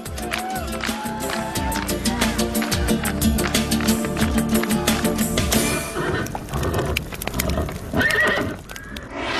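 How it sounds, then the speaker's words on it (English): A horse whinnies loudly amid rhythmic hoofbeats in Kazakhstan, with music playing throughout and a busy, layered background. "The obedient and fast horse is the best friend of the horseman."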